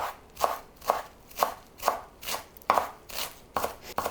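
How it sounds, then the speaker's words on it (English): Fresh dill and parsley finely chopped with a knife on a cutting board, sharp evenly spaced chops about twice a second, close and clear with no voices. "So let's just chop them finely."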